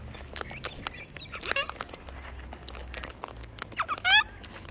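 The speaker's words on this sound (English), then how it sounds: "Lots of birds, lots of birds." Scattered fowl and bird calls come from a flock, with short squawks and a rising chirp near the end, mixed with rustling and crunching close by in a fairly quiet outdoor setting.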